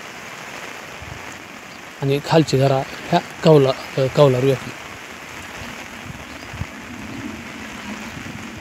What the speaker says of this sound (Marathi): आणि अचानक पावसानं जाम धांदळ केली मित्रांनो पहा.